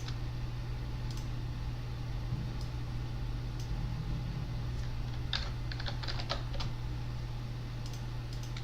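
Computer keyboard shortcut keys are pressed during animation work in Toon Boom Harmony 15, giving a quick cluster of soft clicks over a steady low room hum, with sparse single taps before.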